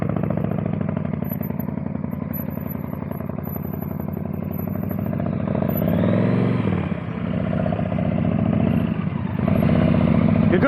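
Motorcycle engine held at low throttle during slow-speed riding practice, a steady close rumble with small throttle blips and surges, loudest toward the end, running continuously without speech.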